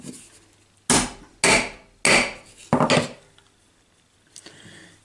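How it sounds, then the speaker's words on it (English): Four sharp metallic taps ring out as pins are driven through a kitchen knife handle on a vise, evenly spaced and close, followed by a quieter shuffle near the end. "then I have to tap these pins through, which I can do on my vise hopefully"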